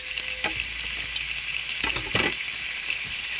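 Steady, close sizzling and spitting of bacon frying in a hot pan, continuous crackle throughout with a few louder pops, no voices.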